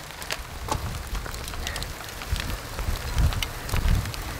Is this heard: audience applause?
no